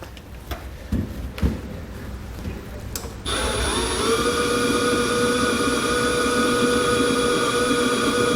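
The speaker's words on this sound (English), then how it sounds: "We'll now take our 9/16 drill bit and we're going to enlarge each of the holes" A few sharp clanks and knocks, then a power drill with a 9/16 bit starts and whines steadily at high pitch enlarging holes in metal brackets, loud and close, running continuously.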